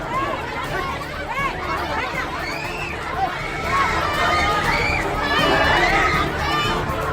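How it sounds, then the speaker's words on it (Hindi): An angry crowd gathers at the scene of a triple murder at a mosque in Baghpat, India, a loud, dense mass of overlapping shouts and agitated chatter that swells and surges throughout, with many voices yelling at once. "भीड़ इतनी आक्रोशित है, कोई भी कुछ भी सुनने को तैयार नहीं।"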